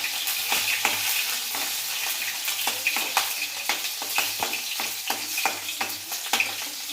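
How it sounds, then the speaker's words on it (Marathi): Cumin seeds and green chilies frying in oil, a close continuous sizzle broken by quick rhythmic scrapes and taps of a spatula against the pan, with no voices. "जिरे टाकल्यानंतर आता ह्या मिरच्या घालायचे"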